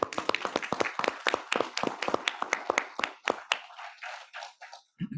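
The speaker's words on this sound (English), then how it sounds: "give him a round of applause, Colonel Jensen" Scattered clapping from an audience in a conference room, a few dozen pairs of hands with distinct individual claps that thin out and stop near the end.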